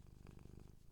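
A pet cat named Bobby purrs loudly right against the microphone, a steady close rumble with rapid pulsing breaths running through the whole second.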